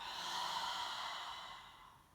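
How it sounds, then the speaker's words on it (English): A deep, drawn-out breath during a yoga flow on a ranch, heard as a soft, airy rush close to the mic that gradually fades over about two seconds. "One more great big inhale. Let it out."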